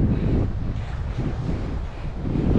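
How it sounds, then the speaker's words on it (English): Strong wind buffets a GoPro Hero 9 microphone in a low, continuous roar. The rumble is loud and constant and drowns out any other detail. "it's quite windy here, so"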